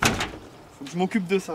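A door is shut with a single sharp thud at the start, followed by someone speaking briefly in French.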